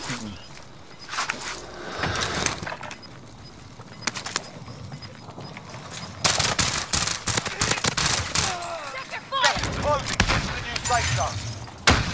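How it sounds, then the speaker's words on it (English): Bursts of Call of Duty Modern Warfare gunfire crackle in scattered clusters, some louder rattling volleys and some fainter distant shots, mixed with players talking over the action. "they're shooting at us already"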